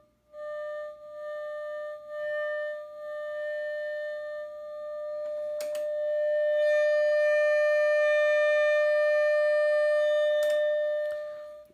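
A steady sine-wave test tone played through a converted Heathkit T4 guitar tube amp, one sustained hum with strong overtones that swells louder midway, broken by two brief crackles, with no voices.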